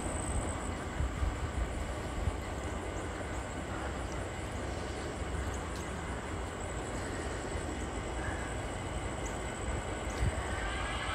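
Steady, even rumble of a Norfolk Southern freight train passing through town on a hot, humid day, constant wheel and engine noise at a moderate distance, unbroken for the whole stretch with no voices.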